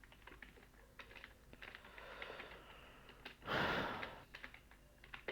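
Computer keyboard keys tap in a quiet, irregular run of close clicks, with a brief breathy rush partway through and no talking.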